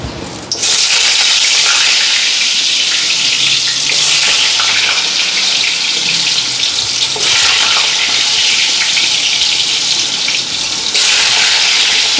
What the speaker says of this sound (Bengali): আগে আলুটা ফ্রাই করি, পরে ঝিঙ্গাটা দেব।